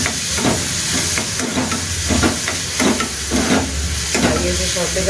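Vegetables sautéing in a hot pan at home, a steady close-up sizzle and hiss broken by repeated scraping stirs of a utensil, with faint talk in the background.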